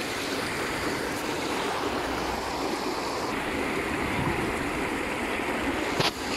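Floodwater rushes steadily after rain and hail in Saudi Arabia, a continuous loud wash of flowing water with a brief knock near the end.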